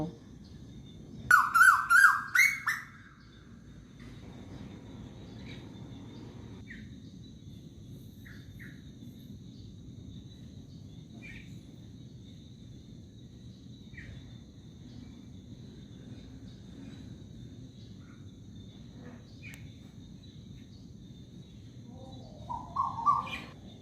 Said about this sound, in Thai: นกกาเว่าเสียงทอง มาร้องอยู่ใกล้จังเลย